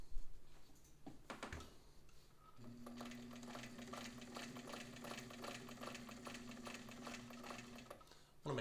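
An Anker heavy duty zigzag sewing machine stitching a cuff, a steady close mechanical whir with rapid rhythmic needle clatter running for several seconds after a few sharp handling knocks.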